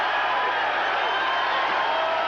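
A large arena crowd at a heavyweight boxing match between Larry Holmes and Trevor Berbick roars steadily as it rises to its feet, a dense, loud and unbroken wash of cheering with no single voices standing out.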